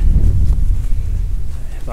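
Cold wind gusting across a Blue Ridge mountain trail in Georgia, a loud low rumbling buffet on the microphone that stays steady for the whole stretch, with no clear talk.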